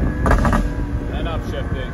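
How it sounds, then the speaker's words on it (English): An SVJ Roadster with a Gentani exhaust downshifting: a loud, low engine rumble that swells briefly near the start, then settles into a steady drone, with some speech-like sounds over it. "Just downshifting."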